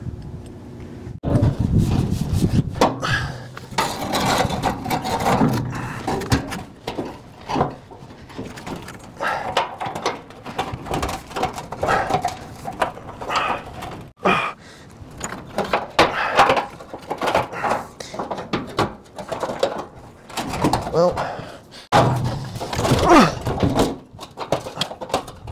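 A new gas tank being fitted and strapped under a 1960 Chevrolet Impala, with dense, continuous knocking, scraping and clunking of metal and parts, close and fairly loud throughout, and no talking.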